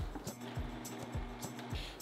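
A kitchen blender whirs steadily while blending soaked rice with water for horchata, a mid-level motor hum with a few rhythmic surges, alone without talk.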